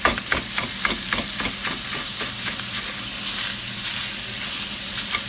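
Meat frying in olive oil in a pan, a steady close sizzle that runs throughout, with a quick series of rhythmic taps near the start.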